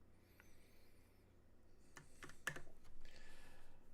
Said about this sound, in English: I'm using the loud clackety keyboard tonight.